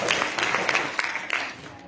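A church congregation claps for a first birthday during a Sunday morning service, a short burst of scattered, moderately loud hand claps that tapers off.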